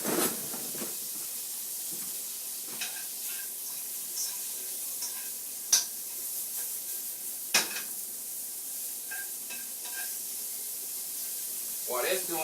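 Food cooks in oil in a pan on a home stove, giving a steady close sizzle and hiss broken by a few sharp scrapes and clacks of stirring, with a voice speaking over it.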